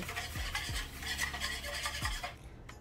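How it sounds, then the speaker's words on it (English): A whisk beats chia seeds with milk and vanilla extract in a bowl, a steady, close scraping and swishing with a few sharper taps against the side, continuing without pause and with no voices. "Take your whisk and then whisk it up good."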